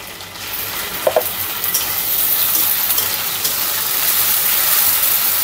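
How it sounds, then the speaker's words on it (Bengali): Spice paste with green chilli paste fries and is stirred in a pan, a steady loud sizzle with scraping strokes of a spoon running throughout, no talking. "মশলাটা কষিয়ে নিচ্ছে"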